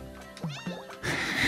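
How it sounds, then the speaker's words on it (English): A cat in the Littlewood video game gives two clear, close meows while being petted, followed by a burst of brighter game sound effects. "I'm gonna be petting the cat all the time now."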